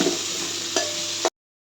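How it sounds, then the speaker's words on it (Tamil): Medium tomatoes sautéing in a pan, a brief steady sizzle and frying hiss with a couple of soft stirring scrapes, close and moderately loud, then cutting off. "தக்காளி மீடியம் சைஸ் தக்காளியை போட்டு நல்லா வதக்கலாம்"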